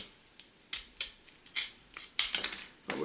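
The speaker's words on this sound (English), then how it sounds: "we'll just cut that little banded ring right off" A sharp blade slicing through the banded ring on the neck of a plastic jug, giving repeated crisp snipping and scraping cuts at an irregular pace, close and clear with no talking.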